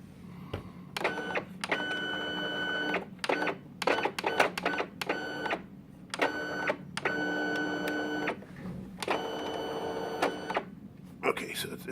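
A Fargo HDP5000 card printer feeds a card through its path, giving repeated bursts of mechanical whirring and buzzing separated by short pauses, close and fairly loud over a low background hum.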